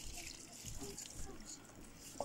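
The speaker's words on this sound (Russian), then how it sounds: "Заливаем воду." Well water pours and trickles into a pot of eggs layered with onion skins, a soft steady splashing under a quiet background.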